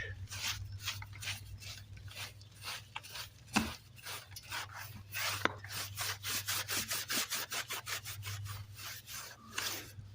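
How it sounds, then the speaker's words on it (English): A small coconut brush rubbing back fresh pointing on a brick wall, a close, rhythmic scratchy scrubbing that quickens into steady strokes, over a low constant hum. "Let's get this little coconut brush and polish it up. Give it a rub back."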